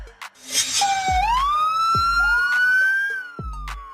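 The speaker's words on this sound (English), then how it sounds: "Police car. A vehicle used by law enforcement agencies for patrolling, responding to emergencies, and enforcing laws." A police car siren wails alone and loud, rising and sweeping upward in a long continuous tone, with a few short low thumps underneath.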